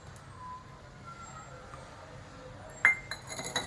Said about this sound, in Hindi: अब इसके अंदर, this is a correct time, ये किशमिश डाल देते हैं